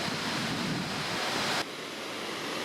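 A waterfall on the Kopka River in the Northern Ontario wilderness gives a loud, continuous broadband roar. Its level drops abruptly partway through, with no voices.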